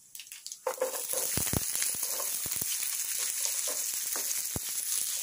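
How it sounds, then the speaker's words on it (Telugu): Onion pieces hit hot oil with curry leaves for a tamarind curry and break into a steady, close sizzle, with a few sharp pops and stirring scrapes over the continuous frying hiss. "ఉల్లిపాయలని బాగా బ్రౌన్గా ఫ్రై అవ్వాలి"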